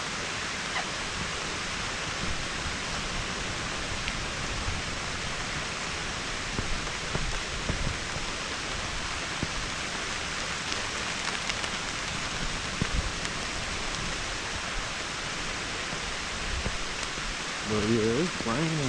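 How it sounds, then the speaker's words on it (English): Rain falling through forest canopy on a beach trek in Phuket, Thailand, a dense, steady wash of hiss that continues unbroken for the whole stretch, with faint movement and a brief voice near the end. "But yeah, it's raining for real."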